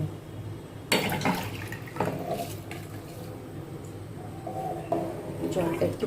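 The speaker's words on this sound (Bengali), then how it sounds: "এখানে ভাতের জল বসে দিয়েছি চালটা ভিজিয়ে রেখেছিলাম এখন এর মধ্যে দিয়ে দেবো" Soaked rice poured into a pot of boiling rice water in a home kitchen, giving a brief splash and clatter of grains hitting water, then a steady bubbling simmer with faint clinks under quiet background talk.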